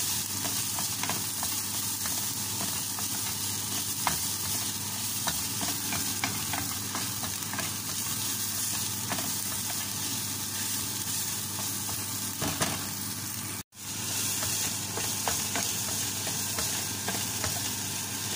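Chicken hotdog pieces sizzle steadily in a pan of fried rice, a continuous close frying hiss broken by the soft scrape of stirring and one brief dropout near the end.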